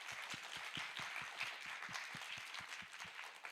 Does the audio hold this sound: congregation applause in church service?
yes